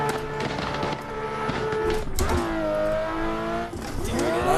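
A Mercedes-Benz 190E engine in the Assetto Corsa racing game revs hard while drifting, pitch climbing and dropping through gear changes, loud and close, with a brief tire squeal.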